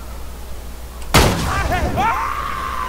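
A single loud shotgun blast fires in Borderlands 2, an abrupt crack followed by a ringing tail and electronic game effects.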